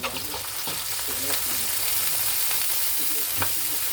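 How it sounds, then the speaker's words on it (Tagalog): Beef ribs (buto-buto) for kare-kare fry in a hot pan with a steady, loud sizzle, while stirring adds scraping and bursts of crackle throughout. "ilagay na natin yung karne."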